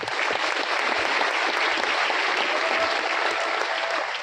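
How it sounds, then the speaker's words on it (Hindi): Dense, even applause from a seated audience at a motivational achievers' gathering, a continuous wash of many hands clapping at steady loudness with no break. "एक ताली हो जाए उनके लिए"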